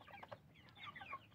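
Chickens cluck in a farmyard flock with roosters among them, a few short, moderately quiet calls scattered through a brief stretch with no talking.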